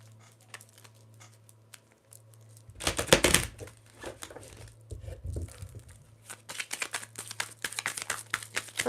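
Tarot and oracle cards being shuffled by hand, soft papery riffles and crinkly bursts in uneven clusters, close and fairly quiet, with a low steady hum underneath and no talk.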